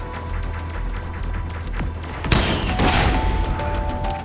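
Buster Cannon shots in Mega Man Legends 2 crack out over a steady game background, with a sharp loud blast followed by a second burst and lingering rumble.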